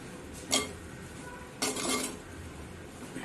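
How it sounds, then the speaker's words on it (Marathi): Two short scraping strokes sound as a spoon stirs shegal (drumstick) vegetable curry in a pan, close and fairly quiet over a steady low kitchen background. "आता ही परत एकदा चांगली फिरवून घ्यावा"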